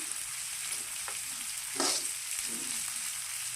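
Ginger pieces and curry leaves fry in a hot pan with a steady, close sizzle, a stirring scrape rising briefly near the middle before the crackle settles back.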